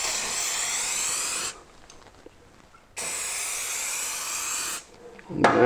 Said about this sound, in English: I'm going to apply the activator